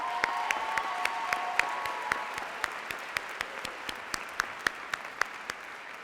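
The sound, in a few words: applause for family and friends at graduation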